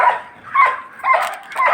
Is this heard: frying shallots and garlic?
no